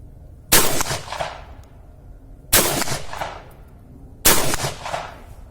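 Three loud, sharp reports from a Hugsan pump-action air rifle fired outdoors at a target, spaced roughly two seconds apart, each with a quickly decaying tail.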